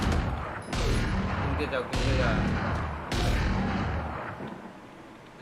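Valorant gunfire during a tense round cracks out in several loud bursts of rapid shots, separated by short pauses, while someone talks in Hindi over the action.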